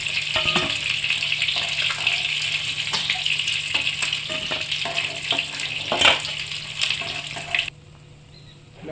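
Pieces of rui fish fry in hot oil, giving a steady, dense sizzle with occasional crackles and spatula taps, close and continuous until it cuts off near the end.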